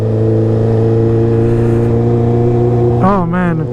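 A Honda CB650R with a derestricted, dyno-flashed ECU riding along, its exhaust giving a loud, deep, steady grunty burble that shifts pitch near the end as the engine note changes.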